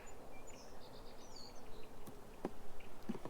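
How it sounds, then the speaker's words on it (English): Honey bees buzz around an overwintered hive, a soft steady hum of many wings close by, with a few sharper bursts as individual bees pass near. "Just a lot of busy bees"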